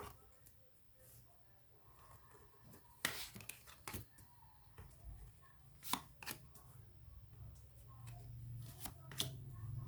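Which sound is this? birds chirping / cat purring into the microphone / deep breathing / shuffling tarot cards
shuffling tarot cards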